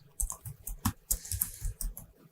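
Quick bursts of typing on a computer keyboard during Excel work, a dozen or so close key clicks in uneven clusters with no one talking.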